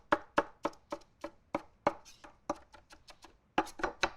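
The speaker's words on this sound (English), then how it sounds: "Time to chop the peppers. Keeping all that beautiful charred skin on." A knife chops charred peppers with their blackened skin left on, about fifteen quick, crisp strokes on a board at an uneven rhythm, close and fairly loud, with no speech.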